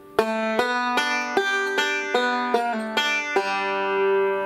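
A banjo picks a steady, unbroken roll of bright plucked notes, with a few slid and pulled-off notes mixed into the pattern, played alone and close.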